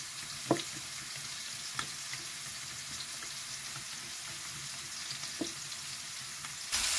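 Pumpkin pieces fry in a pan with a soft continuous sizzle, a few faint clicks of a utensil now and then, quiet and close, with no voices.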